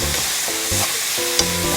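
Fish cake strips with chili strips being stir-fried in a pan, a steady sizzle broken by scraping stirs of the spatula roughly every half second and a sharp clink near the end, with no voices.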